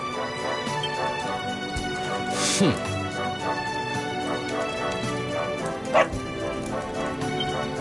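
A dog barking in the Dragon Quest XI video game, short yips and barks over game music, with speech heard alongside.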